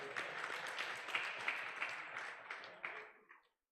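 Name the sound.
audience applause at a conference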